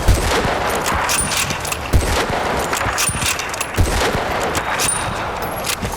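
Gunfire in Bad Company 2, including sniper rifle shots, rings out in sharp, repeated cracks over a dense battlefield din, loud and continuous.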